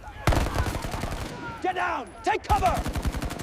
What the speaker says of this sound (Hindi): अचानक सामने से गोलियां चलनी शुरू हो गईं और पूरा माहौल युद्ध में बदल गया।